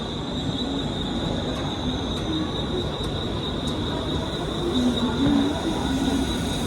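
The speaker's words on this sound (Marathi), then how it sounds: "ट्रेन पण आली आहे, दाखवतो" A suburban train pulling into a station on the Kalyan line at night, steady rumbling wheel noise with a faint high whine and occasional squeals, no talk.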